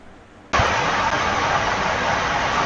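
A race car roars through turns three and four at Bowman Gray Stadium during a VARCA short-track race. The sound cuts in abruptly as a loud, dense, sustained engine roar.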